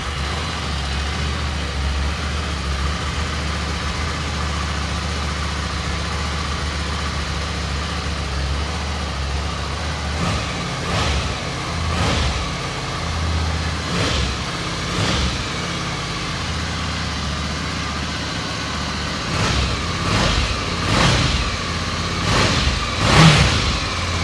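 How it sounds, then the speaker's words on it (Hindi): Ducati Scrambler 800 longitudinal twin engine, a stock bike, idling steadily with a low throb, then revved in a series of sharp, loud blips over the second half. "आइए फायर अप करते हैं करके स्टार्ट करते हैं स्क्रैम्बलर को ही।"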